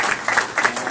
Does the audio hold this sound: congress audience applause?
yes